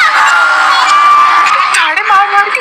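Women screaming and wailing loudly with high, sustained cries that waver and overlap, close and intense throughout.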